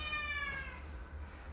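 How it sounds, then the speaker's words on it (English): A house cat meows once indoors during a home yoga session, a single faint drawn-out call that fades within a second over a low steady hum. "That's my cat."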